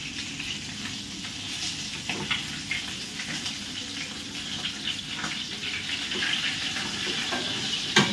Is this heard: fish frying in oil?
yes